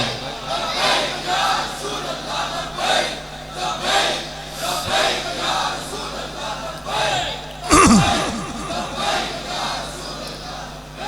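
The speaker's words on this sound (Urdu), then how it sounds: "اس نعرے کو ذرا اونچی آواز سے لگائیں۔" A large religious rally crowd chants slogans loudly, a sustained roar of many voices rising and falling in waves, with a sharp thump or mic knock near the end.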